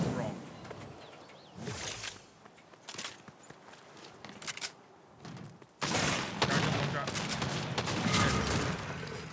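Gunfire crackles in the video game Fortnite, with scattered shots early on and then a dense, sustained burst of rapid fire in the second half, heard behind a player talking.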